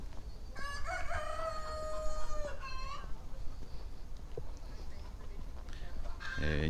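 A rooster in Jinjiangli village, Kaiping, China, lets out one long, loud crow that rises and holds before trailing off, over steady outdoor village background noise, with a brief bump of other noise near the end.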